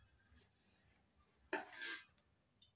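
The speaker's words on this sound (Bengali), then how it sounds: "3 মিনিট পর ঢাকনা তুলে নিচ্ছি।" Metal lid lifted off a pot of soaked semolina, a brief clattering scrape and clink lasting about half a second, followed by a faint second tap, in an otherwise quiet kitchen.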